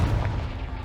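Fire spell explosion in the Hogwarts Legacy video game, a single heavy, rumbling boom filling the short moment with dense low roar, loud and close.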